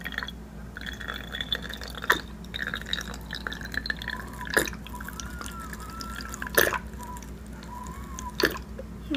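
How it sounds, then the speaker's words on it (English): Apple cider vinegar toner mix with distilled water or witch hazel pours into a bottle, giving close, faint drips and a few sharp splashes over a steady low hum, with no talk. "Pour it in here."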